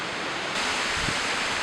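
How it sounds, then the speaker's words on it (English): Strong wind roars on an Ontario backcountry canoe trip, a loud, continuous broadband rush buffeting close to the microphone with no voices. "It is so windy."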